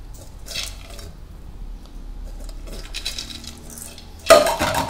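Lentils tipped into a pressure cooker in a home kitchen, a soft rustle and then a burst of clattering, rattling grains against metal near the end, close by with no talking.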